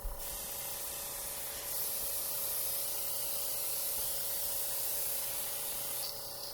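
Close, steady hiss of a makeup airbrush spraying nonstop, with a slight change in pitch partway through and a shift near the end, and no talking.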